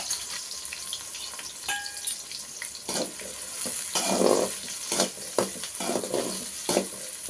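Small onions fry in oil in a village-style kitchen for prawn curry, a crackling sizzle broken by scraping stirs and clinks, moderately loud with bursts as the pan is stirred.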